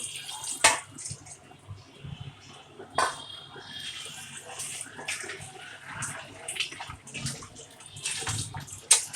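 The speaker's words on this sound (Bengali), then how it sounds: "এখানে বাদামের পানিটা দিব অন্য পানি আলাদা কোনো পানি দেওয়া হবে না" Water from ground almonds poured into a kacchi biryani mixture, splashing and trickling close up in uneven bursts with a few sharp clinks, no speech.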